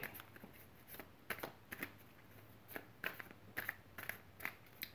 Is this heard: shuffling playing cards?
yes